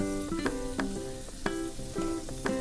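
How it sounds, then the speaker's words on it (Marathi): Fenugreek leaves sizzle as they are stirred into fried masala for methi matar malai. Soft frying hiss runs throughout, with repeated scraping and tapping from the stirring. "आता आपण त्याच्यामध्ये मेथी घालूया"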